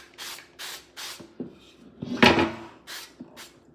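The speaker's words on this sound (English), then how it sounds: "It has preheated, so I'm gonna give it a good spray." Cooking oil sprayed into a preheated air fryer in short hissing bursts, about five separate squirts spread over a few seconds with light clatter between them, close and fairly quiet.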